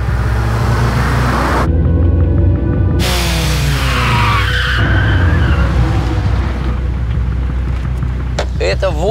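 A car braking hard at 80 km/h produces a loud, continuous tyre skid over heavy road and engine rumble, with abrupt cuts in the sound partway through.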